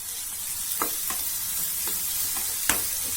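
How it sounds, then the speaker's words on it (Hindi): Onions fry in a pan for a bread pakoda stuffing, a constant bright sizzle punctuated by several quick spoon stirs, close up and with no voices. "इसको भी 3-4 मिनट्स के लिए फ्राई करेंगे"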